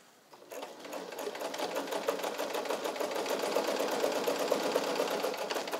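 A restored all-metal vintage Kenmore Model 120 sewing machine, made in Japan, stitches a medium-width zigzag, its motor running at a steady close-up whir with rapid rhythmic needle clatter that builds after a quiet start.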